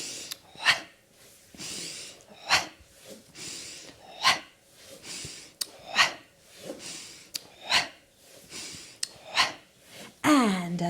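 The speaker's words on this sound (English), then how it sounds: "And nice pumping breath there." Rhythmic pumping breaths during a Gyrokinesis-style hip and core exercise, close and fairly quiet. About a dozen sharp, forceful inhales and exhales repeat at a steady pace with short pauses between them.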